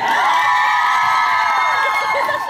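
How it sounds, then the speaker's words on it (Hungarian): A concert audience at an Advent show cheers and shouts loudly, a sustained wash of voices with little clapping standing out, filling the whole stretch without letup. "És még egy tapsot szeretnék kérni Vavra Bencének!"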